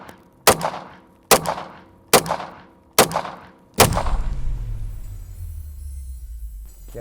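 Gunshots fired at a Tesla Cybertruck: five loud, sharp reports at an even pace, each ringing off briefly, followed by a rumbling echo and low hum after the last shot.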